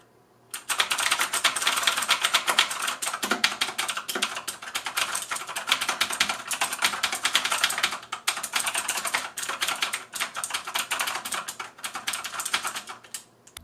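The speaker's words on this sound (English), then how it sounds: "these are very clicky keys, and you can actually hear how loud these keys are in the sound test" Budget clicky mechanical keyboard with knockoff Cherry switches being typed on, a rapid, steady stream of sharp, loud clicks close up, with brief pauses, and no talking.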